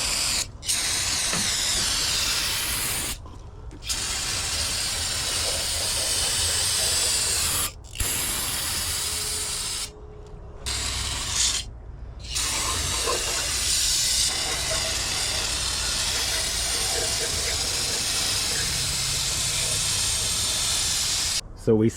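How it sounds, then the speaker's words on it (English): Copper coat spray can discharging onto engine head gaskets in a garage, long bursts of loud close hiss separated by abrupt short pauses, repeating for the whole stretch. "So we sprayed our head gaskets with copper coat to ensure that we don't even blow one"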